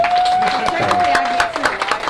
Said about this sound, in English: Round of applause for Jeff, everybody.